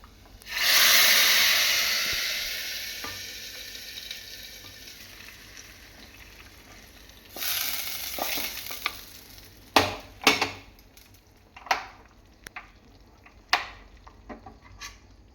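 Tapioca in a milk mixture hits a hot pan with a loud, bright sizzle that gradually fades. It is followed by scattered scraping and clacking strokes as the pan is stirred, with no talking.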